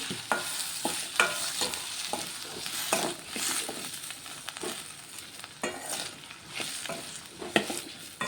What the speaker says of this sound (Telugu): అలాగే కట్ చేసుకున్న ఆలుగడ్డలు కూడా వేసుకుంటాను.